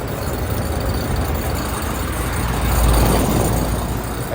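A 2017 two-ton Nordyne air conditioner running while freezing up, producing a continuous broadband whoosh and low hum that swells slightly toward the end, with no talking.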